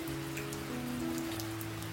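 Rain falling steadily on a vegetable farm during harvest, a dense even patter with a low continuous hum underneath, close and constant for a couple of seconds.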